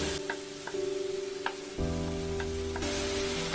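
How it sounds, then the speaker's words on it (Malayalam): Chopped colocasia stems are tipped into a hot pan for a Kerala-style thoran, giving a steady, fairly quiet sizzle with a few light clinks and stirring sounds and a steady tonal hum beneath. "ഇനി നമ്മൾ അരിഞ്ഞു വെച്ചിരിക്കുന്ന നമ്മുടെ ചേമ്പിൻ തണ്ട് ഇതിലേക്ക് ഇട്ട് കൊടുക്കാം"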